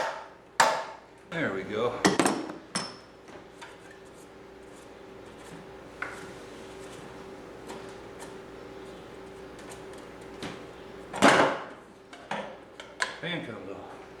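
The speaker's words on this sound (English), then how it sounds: "Take your BFH and you just tap this to break it loose." Metal hammer taps on the fan nut of a 2003 Chevy Tahoe, struck to break it loose: a few sharp close knocks near the start and another burst later, with a brief spoken comment in between.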